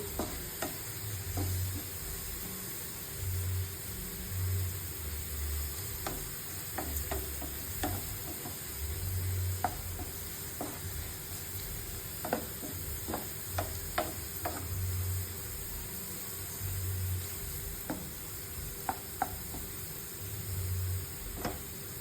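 Dried chili with panch phoron spices, black cumin and fenugreek, sizzles and crackles steadily in a hot pan. A soft stirring scrape and scattered ticking pops run over the constant frying hiss.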